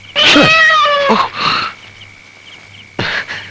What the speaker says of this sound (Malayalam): സാരല്ല, പൂച്ചയാണ്.